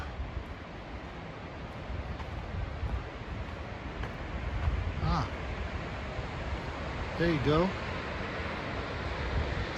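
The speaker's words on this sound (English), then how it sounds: "I hear the falls really loudly" A mountain waterfall roars as a constant broadband rush heard on a hike, with wind buffeting the microphone and someone speaking briefly over it.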